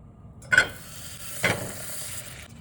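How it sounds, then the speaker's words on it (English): Two sticks of butter melting in a pot on a stove, a faint soft sizzle with two brief louder hissing bursts, quiet and close. "Now I got 2 sticks of butter here going to the stove."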